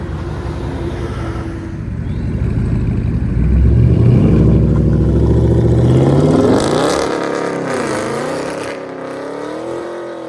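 A 2018 Dodge Challenger 392 HEMI 6.4L V8 with true dual straight pipes rumbles loudly and revs up, its pitch rising and falling through raw, unmuffled exhaust roar, then settling back toward idle.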